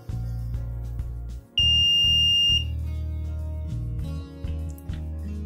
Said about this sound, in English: the system recognized that the finger has been lifted or some other finger has been placed and it raised an alarm